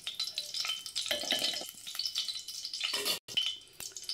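Chillies fry in a pan with a close, crackly sizzle that swells and fades in bursts, with brief stirring scrapes and a momentary dropout near the end, no talking.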